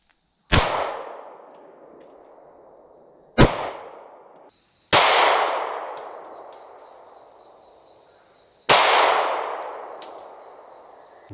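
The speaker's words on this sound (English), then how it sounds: "you draw your weapon and you fire 2 rounds" Ruger LC9 pistol firing on a range: four loud, sharp reports spaced a few seconds apart, each with a long ringing decay.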